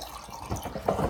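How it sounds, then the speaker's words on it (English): Water poured into the reservoir of a coffee maker, a short, faint dripping and splashing trickle lasting about a second, with no voices over it. "I'm going to put the water in."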